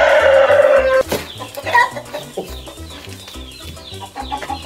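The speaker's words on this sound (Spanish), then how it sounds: "Señores, les presento al gran Hades, un gallito criollo nacional de 98 centímetros." Large national Creole rooster clucking up close, a short run of loud fowl calls and clucks at the start over a repeating low rhythmic background beat.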